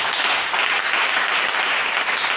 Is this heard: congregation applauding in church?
yes